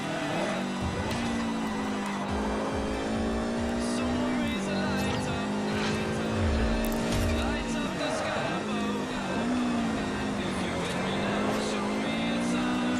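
A car in the racing game Forza Horizon engine-drones continuously, its pitch climbing and dropping through gear shifts, loud and close, with a voice talking over it.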